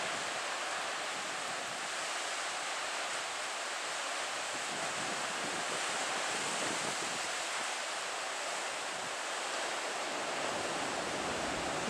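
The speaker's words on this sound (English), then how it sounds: "Water's carving out the rock below." Ocean water washes continuously against and beneath a rocky New Zealand shoreline where the sea has carved caves, a dense, loud rushing roar with some wind noise and no clear breaks.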